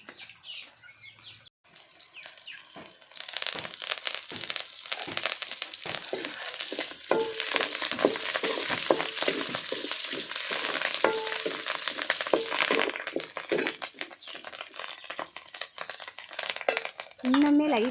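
Fresh curry leaves sautéing in a pan for a dried-fish curry, starting quietly and then breaking into a loud, dense, crackling sizzle that holds steady for several seconds before easing off.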